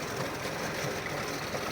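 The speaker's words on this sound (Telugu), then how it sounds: "ఈరోజు మన ట్రాక్టర్ రోటావేటర్ కొట్టడానికి మునగ చెట్లలోకి పోయింది" A mini tractor working a rotavator through a drumstick tree orchard, a continuous low engine drone and churning rumble at steady level, fairly faint and unbroken, with no voices.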